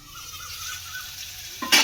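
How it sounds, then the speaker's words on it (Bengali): Spiced masala with tomato cooks in a pan for a fish roe curry, a steady close sizzle with a brief louder clatter of stirring or a lid at the end. "এবার আমি এক মিনিট মতো ঢাকা চাপা দিয়ে মশলাটাকে কষিয়ে নেব"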